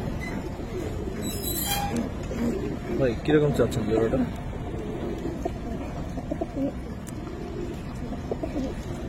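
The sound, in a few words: pigeons cooing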